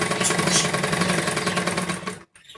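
A sewing machine stitching a lining blouse, a close, loud, fast rhythmic whir and clatter of needle strokes that runs continuously, then cuts off abruptly near the end.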